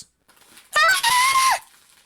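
A single loud, shrill human scream lasting under a second, breaking briefly in the middle, after a moment of near silence.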